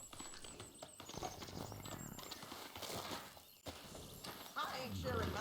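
Horse hooves clip-clop along a trail in Red Dead Redemption 2, a steady walking rhythm mixed with game ambience, a whinny and a voice talking over it.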